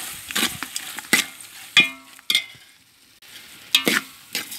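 Biryani masala mixed with curd sautés in a pot, quiet sizzling broken by sharp scraping and knocking strokes of a stirring spoon at irregular intervals, close by, with no talk.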